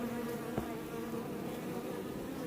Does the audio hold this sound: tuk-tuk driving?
no